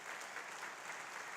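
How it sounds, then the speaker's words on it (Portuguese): Soft, distant audience applause at a church gathering in Pompeia, São Paulo, a continuous even patter of many hands, low in level and without speech. "Dá uma salva de palmas para ele."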